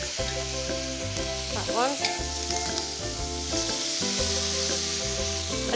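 Soy-marinated steak sizzles steadily as it is turned in a ridged grill pan, a continuous frying hiss over music and a brief spoken voice.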